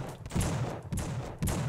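Gunfire in The Suffering, a PS2 horror video game, during a headshot: three sharp blasts about half a second apart, each with a short booming tail, close and loud with no talk.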